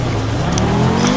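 A Group B Audi rally car in a racing game on a 24 km gravel hillclimb, engine note climbing steadily under throttle in a brief, loud, close burst.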